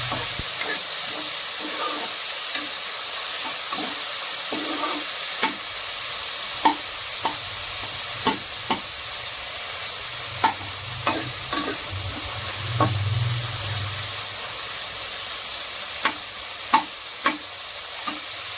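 Onions and tomatoes frying together in a pan for Punjabi-style gobi matar bhurji, a continuous close sizzle and hiss broken by frequent sharp clinks of a spoon against the pan.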